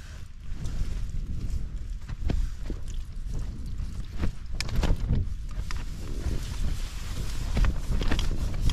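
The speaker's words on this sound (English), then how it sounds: "Bloody wind." Strong wind buffets a winter mountain camp in the Lake District in sub-zero conditions, a continuous loud rumbling roar with gusts and scattered knocks and flaps throughout.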